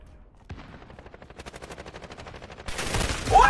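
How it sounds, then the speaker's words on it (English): A friendly sentry gun in a video game fires a rapid, steady burst of automatic shots, loud and close, followed by a rougher, louder stretch of gunfire with a brief high squeal at the end. "Friendly sentry gun deployed."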